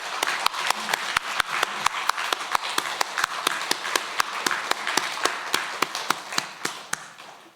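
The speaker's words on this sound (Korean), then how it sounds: "우리 모두 힘찬 박수로 주님 앞에 영광 돌리겠습니다." A church congregation at a Sunday service claps together in a steady, evenly spaced rhythm, crisp individual claps repeating about every third of a second from start to finish.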